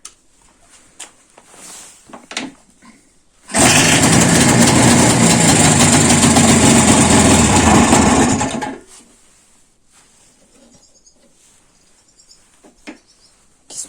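IZh motorcycle engine, hard to start after a long idle, bursts into life and runs loud and rough for about five seconds before cutting out, with faint clicks and handling noises before and after.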